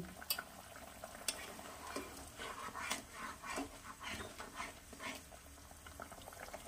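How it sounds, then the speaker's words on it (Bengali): Fish curry with potatoes and cauliflower simmers in a pan, soft bubbling and occasional spoon clinks and stirring, quiet and close without voices. "আলু ফুলকপি সবই সিদ্ধ হয়ে গেছে।"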